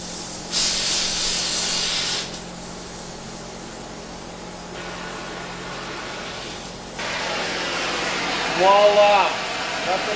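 Broadband hissing roar of a torch flame heating a stuck U-joint during 1968 subframe removal, steady and close, swelling and dropping in bursts, with a brief voice near the end.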